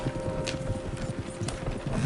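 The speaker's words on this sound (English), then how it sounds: "Horses won't go this fast for long." Horses in Red Dead Redemption 2 gallop at speed, their hooves pounding in a quick, rhythmic clatter close by, with faint snorting in the background.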